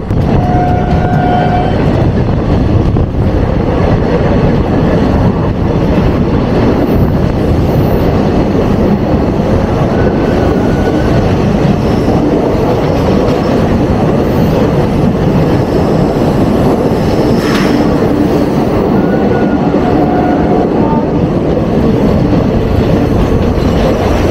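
The 18107 Rourkela Intercity Express runs on rails between Koraput and Jagdalpur, giving a loud, steady rumble of train wagons with faint clickety-clack throughout.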